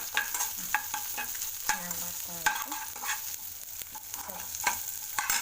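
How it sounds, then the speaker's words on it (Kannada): Onions and green chillies stirred and sautéed in a hot pan, a steady sizzle of frying with repeated scraping and clinking strokes of a spoon against the pan, close and fairly loud with no talking. "ಈರುಳ್ಳಿ ಹಸಿ ಖಾರ ಹಾಕೊಂಡು ಚೆನ್ನಾಗಿ ಬಾಡಿಸ್ಕೊಬೇಕು"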